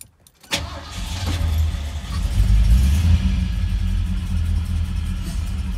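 A Ford Ranchero engine cranks and catches after stalling, a sharp start followed by a low, rumbling idle that swells slightly and holds steady and loud throughout, with no talk.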